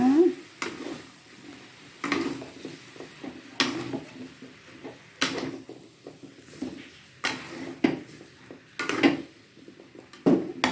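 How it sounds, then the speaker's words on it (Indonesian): Vegetables are stirred into cooked spice paste in a pan for a pumpkin lodeh, with repeated scraping strokes of a utensil against metal over a low sizzle, in an irregular rhythm of close, fairly loud knocks. "Oke, udah matang bumbunya, saya masukkan sayurnya ya."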